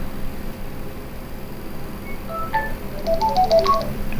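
A brief run of bright electronic beeps forms a short ringtone-like melody near the end, an alarm ringtone on a Samsung Galaxy S26 phone, over a steady low background hum.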